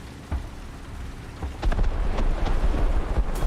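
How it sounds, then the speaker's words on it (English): Storm in California with steady rain hissing outside, a low rumble of thunder swelling partway through and scattered drop impacts on surfaces, fairly loud and continuous without voices. "it's raining outside right now"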